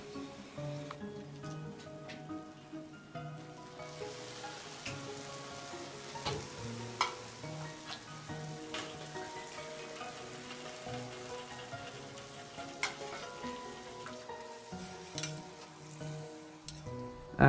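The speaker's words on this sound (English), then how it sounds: "Add boiling syrup to the baklava without waiting immediately after removing it from the oven." Boiling syrup is poured over a tray of hot, freshly baked walnut-filled Turkish curled baklava, giving a soft, continuous sizzle and crackle beneath music.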